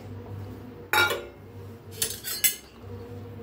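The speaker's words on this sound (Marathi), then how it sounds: "आता ते याच्यात ओतूया कढाईत" Semolina (rava) poured from a bowl into a kadhai makes brief gritty rushes and clinks of the bowl against the pan, three short close bursts over a low background hum.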